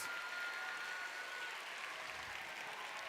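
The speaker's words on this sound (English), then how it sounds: "students, I would like you to stand up and give a big round of applause to all of your mentors and coaches" At a district robotics event, students give their mentors and coaches a round of applause, heard as a faint, distant wash of steady clapping through a large hall.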